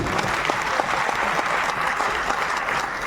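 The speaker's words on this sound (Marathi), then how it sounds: "टाळ्या कशा वाजवायच्या डोक्याच्या वरती हात घेऊन वन टू थ्री" An audience at an LGBTQ community function in a Balgandharva auditorium applauds loudly and densely, a dense wash of many hands clapping that holds steady for the whole stretch.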